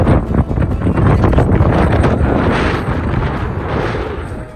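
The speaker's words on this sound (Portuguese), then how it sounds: "Tempo maravilhoso e esse vento típico do Nordeste que não pode faltar" Strong coastal wind over the Genipabu sand dunes in northeastern Brazil, a loud continuous buffeting roar battering the microphone, steady with gusts and no talk.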